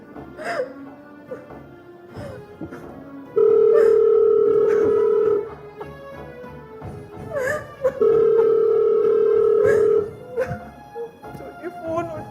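Telephone ringing unanswered, two long electronic ring bursts about two seconds each, loud and near, with voices talking in between.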